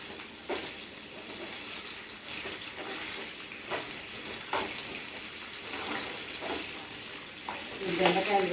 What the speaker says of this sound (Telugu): పచ్చిమిరపకాయలు వేసి బాగా కలపాలి.